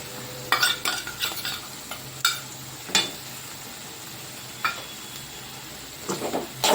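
Tomato sautéing with ginger garlic paste for a hot, spicy chicken gravy: a low steady sizzle broken by several sharp scrapes and clinks of a spoon stirring against the pan.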